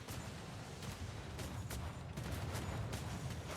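Ship cannons firing in the Atlas video game, a dense, continuous barrage of booming shots with rumbling low end running through the whole stretch.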